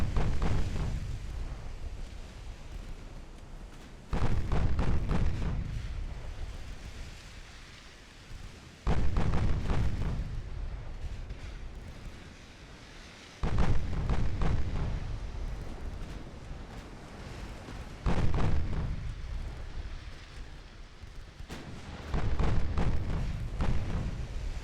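Naval gunfire hitting armored battleships in Ultimate Admiral Dreadnoughts: five deep, booming salvos roughly every four to five seconds, each a heavy thud with a long rumbling decay, over a low steady background.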